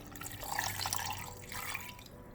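Water pours into a container for a non-alcoholic mango mojito, a soft continuous splashing trickle, close and fairly quiet, with no talking.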